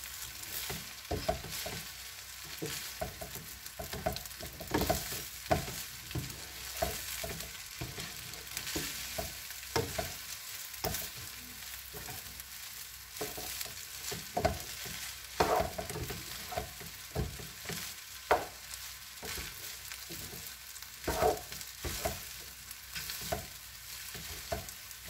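Italian rice with cubed ham, bacon and peas is stirred in a frying pan, a steady close sizzle broken by repeated scraping and tapping strokes of the utensil, with no talking.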